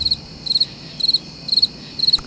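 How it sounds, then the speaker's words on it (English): A cricket chirping sound effect, a clean, loud, high trill repeated in five evenly spaced bursts of three to four pulses each, alone with no voices. "Those are crickets."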